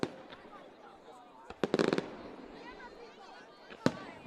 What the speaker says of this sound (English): Max, let's just let the fireworks go off, and we'll just watch it here